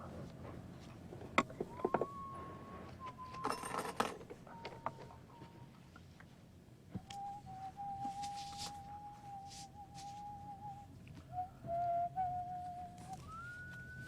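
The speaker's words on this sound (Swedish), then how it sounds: "Att vissla." A man whistles a wavering tune in short held notes with pauses between phrases, fairly close and clear over a faint background hum.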